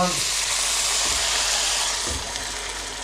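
Loud, close sizzling and frying hiss from lamb stock hitting a hot pan, steady and fading slightly toward the end.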